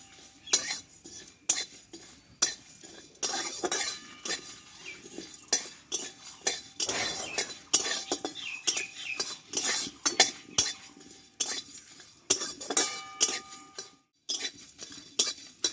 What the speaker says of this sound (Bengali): এই মশলাটা কিন্তু খুব কড়া করে ভাজবো না একটু হালকা করে ভেজে নেবো